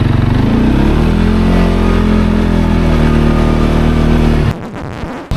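A quad bike engine revs hard at full throttle in the Merzouga desert sand dunes. It is a loud, close, sustained drone that holds steady for several seconds, then cuts off abruptly near the end.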